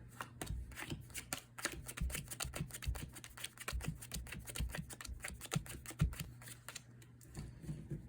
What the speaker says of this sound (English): Then for the second go around, you'll once again deal the first card face up.